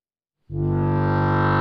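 After a short silence, a dense, distorted electronic music drone swells in and holds steady and loud.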